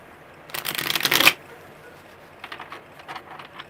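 A brisk riffle of tarot cards shuffled close by for about a second, followed by softer, scattered card sounds.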